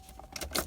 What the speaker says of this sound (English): Take the keys out.